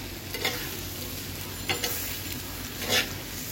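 Beef kebab frying on a hot tawa, a continuous sizzle with three sharp scraping stirs spaced about a second apart, close and fairly quiet, no talk.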